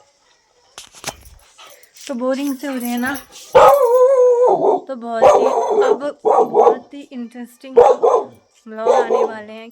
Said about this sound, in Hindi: एक कुत्ता बहुत भौंक रहा है।